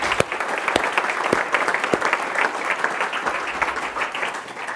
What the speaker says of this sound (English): I'd like you all to give me some round of applause for Charlotta